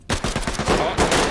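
Rapid automatic gunfire in the tactical shooter game Ready or Not: a loud, fast burst of shots follows a brief silence and keeps going to the end, close and punchy.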